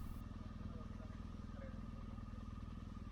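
A motorcycle rolls slowly along a road, its engine chugging at a low, steady idle-like pace, close and continuous throughout.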